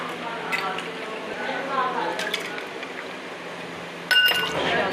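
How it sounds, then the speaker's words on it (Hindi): Chilled homemade grape juice is served into a glass, with light glass clinks and a soft liquid splash while a voice talks in the background. "अच्छे से ठंडा हो चुका है तो अब हम इसे गिलास में सर्व करेंगे।"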